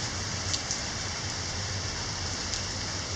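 Steady heavy downpour patters on a surface, a dense continuous hiss with occasional louder drops and no voices.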